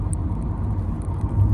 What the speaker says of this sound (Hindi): उसमें थोड़ा चलाते हैं गाड़ी को